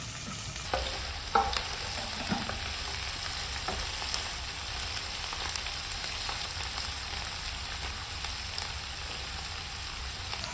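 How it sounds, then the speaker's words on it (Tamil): Onion, garlic and green chilli sautéing in a pan for a dried shark fish thokku, a steady close sizzle with occasional scraping stirs throughout, no voices. "இது நல்லா வதக்கிடணும் நல்லா வதங்கிட்டு இருக்கு"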